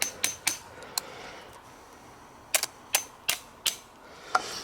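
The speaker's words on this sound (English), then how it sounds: "Where's our hammer?" Sharp metallic hammer strikes hit a jammed OTF switchblade knife, coming as scattered single and double taps with short pauses, close and loud with no talk.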